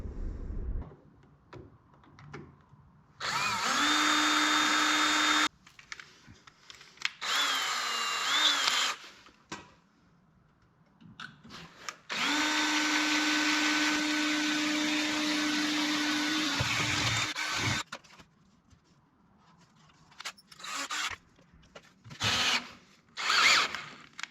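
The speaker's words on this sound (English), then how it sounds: "So we're gonna bolt this guy up here like so." Power tool bolting a new trailer light bracket onto a trailer, heard as several loud whirring bursts of a few seconds each, separated by quieter gaps with clinks and handling noise.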